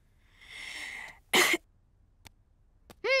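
A short cartoon-style cough from a Peppa Pig cartoon (Swedish dub) during a doctor's heart check rings out alone after a drawn-out breath, followed by a few faint clicks and a rising squeal at the end.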